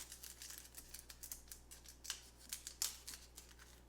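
A knife slicing the ends off an onion on a cutting board, a run of quick, crisp cuts and taps close by, one after another, with no talking.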